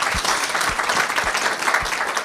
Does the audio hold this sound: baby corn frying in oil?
no